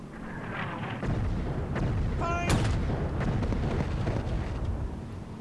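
Gunfire from the World War II sniper shooter Sniper Elite, in a level set in underground subway tunnels: a few booming shots over steady, rumbling game ambience, with one sharp crack standing out near the middle.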